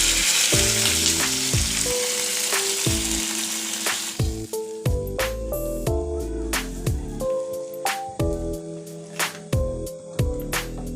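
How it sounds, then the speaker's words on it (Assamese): Broiler chicken meat frying in a pan hisses loudly as water is poured in, with a bright sizzle that dominates the opening seconds. Melodic music with plucked notes then rises over it and carries through to the end. "এয়া মই পানী নিজৰ আন্দাজমতে এড কৰি দিছোঁ।"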